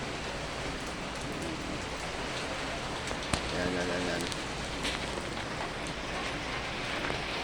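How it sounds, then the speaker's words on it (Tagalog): Heavy rain pours down steadily during a typhoon, a dense, constant hiss of drops on surfaces that fills the whole scene, with a voice heard briefly over it. "malakas ang ulan dito"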